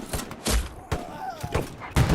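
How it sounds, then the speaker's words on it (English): A few heavy thuds and shots during a Hell Let Loose World War II match as a Panzerschreck rocket launcher is fired, several separate blasts spaced across a couple of seconds at moderate loudness. "Reaper pulls out the Panzerschreck"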